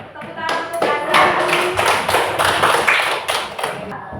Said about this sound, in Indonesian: Boleh tepuk tangan untuk Azhar